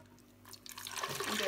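Fruit smoothie is poured into a container close by, a soft liquid gurgle and splash that grows louder over a second and a half.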